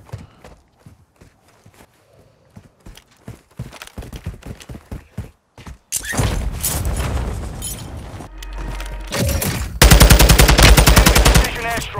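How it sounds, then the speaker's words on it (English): A precision airstrike in Call of Duty Warzone 2: a few seconds of quiet footsteps and light taps give way to a sudden barrage of loud, rolling explosions and rapid blasts that grow heavier toward the end. "Strike inbound. Full effect on target."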